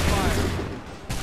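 Musket volley in the Assassin's Creed III Lexington and Concord battle: a loud, dense crackle of many shots fired together at the start, fading over a second before a second burst, with no talk.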